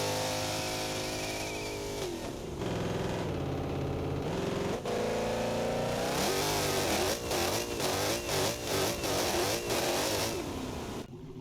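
A drag car engine in the video game BeamNG revs hard, rising in strained, rasping pitch sweeps, then stutters through rapid throttle blips and cuts, loud and close with no voices.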